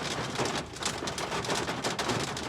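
Heavy rain falls outdoors in a dense, steady hiss that stays even throughout, with no voices over it.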